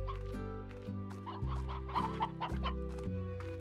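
Hens cluck softly in Slime Rancher, a cartoon farming video game, their small chatter sitting over a loud looping game music track with stepped low tones.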